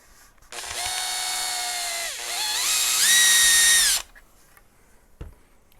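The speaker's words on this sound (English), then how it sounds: "So we're going to drill that out, make it just a little bit bigger" A power drill bores out and enlarges a hole in a black limba custom Strat guitar body, whining loudly and steadily for about three and a half seconds with its pitch shifting partway through before it stops abruptly.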